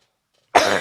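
A single sudden, explosive burst from one person, like a sneeze or cough, loud and close after a moment of silence.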